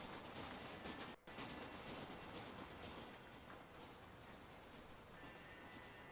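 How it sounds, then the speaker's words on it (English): A train rolls along steadily in the Red Dead Redemption video game. A continuous rumble of wheels and carriages runs without a break, with soft clattering and no voices over it. "I've not actually been on the train in this game yet,"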